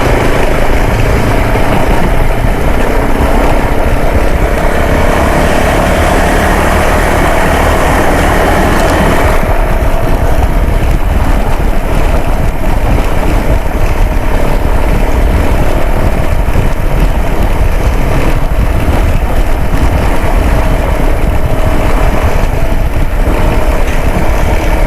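A Voge 300DS or Motomel Skua 150 motorcycle riding at about 50 km/h on a dirt road, steady engine drone blended with heavy wind rush, loud and continuous throughout, with no talk.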